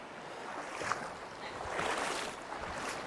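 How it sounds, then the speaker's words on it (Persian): Hot spring water at Kakavand in Lorestan runs steadily toward the Seymareh river, making a continuous broadband rushing and splashing wash that stays close and even throughout, with no voices. "این آب داره میره تا برسه به رودخونه سیمره"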